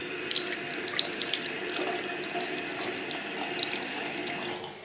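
Running tap water splashes steadily into a sink while makeup brushes are rinsed, close and continuous with small splashy bursts, no voices, and the flow easing off at the very end.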